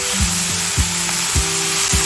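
Steady, loud sizzling fills a pan during stir-frying for a fish roll filling, broken by regular scraping strokes of the spatula about every half second.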